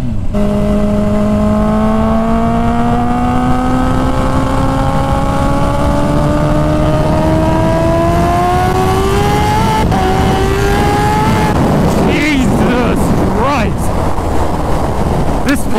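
A 300 whp Kawasaki Ninja H2 motorcycle pulling hard at very high speed, engine tone climbing steadily through a long gear under heavy wind roar, then a shift and rough buffeting near the end.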